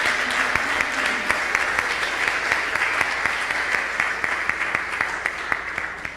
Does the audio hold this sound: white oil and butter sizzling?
no